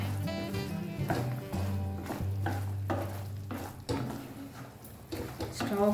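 Phool makhana being stirred in thickened sugar syrup with the stove off, a spoon scraping the pan in repeated strokes, heard clearly under a speaking voice throughout.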